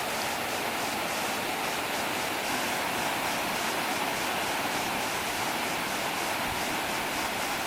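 Sap Sombun waterfall in Nakhon Sawan, Thailand, pours in a constant, dense hiss and rush of falling water, steady and enveloping without pause.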